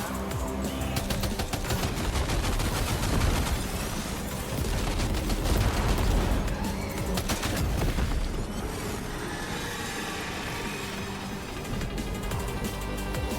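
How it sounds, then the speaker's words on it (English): Machine gun fire in the Death Stranding 2 video game sounds as sustained, loud, rapid bursts with booming impacts, continuous across the whole stretch with brief lulls. "I need the machine gun because I'm shooting them from too far away now."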